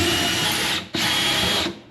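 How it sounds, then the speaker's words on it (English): A power drill boring a pilot hole through cabinet wood, heard as two loud, steady whining bursts close by, separated by a brief pause. "I'm gonna drill it like right here in the middle."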